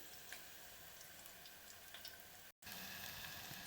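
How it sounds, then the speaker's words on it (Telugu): Pakoda frying in hot oil gives a constant, faint crackling sizzle with tiny pops, broken by one very brief cut before it carries on. "మంచిగా వేగుతున్నాయండి"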